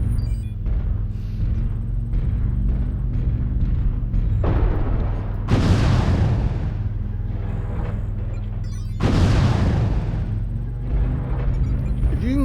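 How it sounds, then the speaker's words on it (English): Missiles fire in bursts over mountains in MechWarrior Online, with deep rumbling launches and two loud booming volleys over a constant low mechanical drone. "You can fire the missiles over the mountains."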